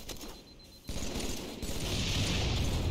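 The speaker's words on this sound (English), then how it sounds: "That's another grenade." A grenade explodes in Halo 3 with a sudden loud boom just under a second in, followed by a sustained rumbling roar with crackling gunfire layered over it.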